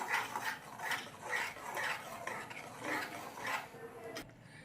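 Tomato sauce mixture with vinegar being stirred together, a soft rhythmic scraping repeating about twice per second, fairly faint and close, ending with a brief sharp tap.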